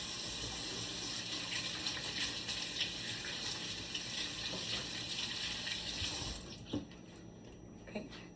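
Hands washed under a running kitchen tap, a steady close rush of water for about six seconds before it cuts off, followed by a few faint handling knocks.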